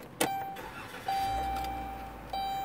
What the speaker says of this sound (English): Got to turn the van on.